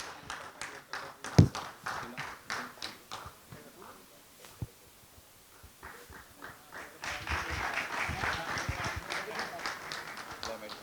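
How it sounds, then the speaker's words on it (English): Scattered claps at a corporate executive roundtable event, starting as separate taps with speech mixed in, then building into fuller, denser applause over the last few seconds. "A round of applause for Sagar Panchal."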